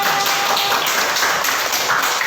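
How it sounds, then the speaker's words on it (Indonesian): A classroom of students claps together for a teacher's lesson, a dense steady patter of many hands held close and evenly loud for the whole stretch, with no voices over it. "Ya, tepuk tangan semuanya."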